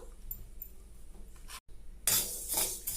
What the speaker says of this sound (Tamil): அடுத்து வந்து வெந்தயத்தை வறுத்துக்கலாம்